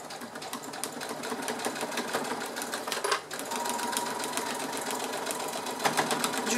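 A domestic sewing machine stitches a seam through fabric scraps, finishing with a backstitch to lock it; steady close rapid mechanical whirring with a brief pause midway before the stitching resumes.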